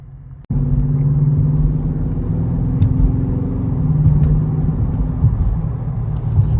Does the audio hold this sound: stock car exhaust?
yes